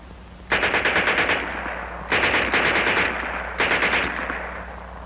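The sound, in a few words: German Schmeisser submachine gun firing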